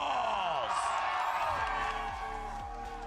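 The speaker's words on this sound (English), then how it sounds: "you can hear the crowd for the Sentinels" Arena crowd roars and cheers for the Sentinels Valorant team at the VCT Americas Kickoff esports event, a loud sustained wash of voices with whoops, under an announcer's booming voice and swelling stage music.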